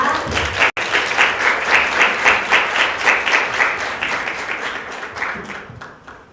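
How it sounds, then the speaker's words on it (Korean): An academic conference audience applauds during a retirement tribute to a professor, a full rhythmic round of clapping that pulses steadily after a brief break near the start, then tapers off toward the end. "모두 박수 한번 부탁드리겠습니다."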